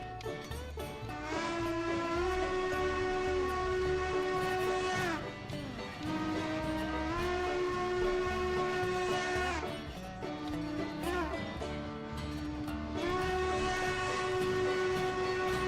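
An articulated 268 steam locomotive in the Railroader video game sounds its whistle in several long, sustained chime blasts separated by brief breaks, over a low chuffing rumble of the running engine.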